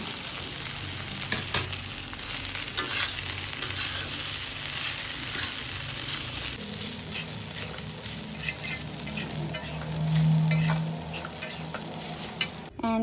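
Flattened rice stirred into pan-fried vegetables for chirar polao, with a steady close sizzle and the scrape and clatter of stirring throughout, no voices.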